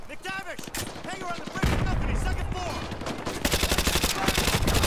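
Rapid automatic SMG fire in Call of Duty: Modern Warfare 2 Remastered, heard as loud, close, dense bursts that grow heavier toward the end, with someone talking over the opening second and a half.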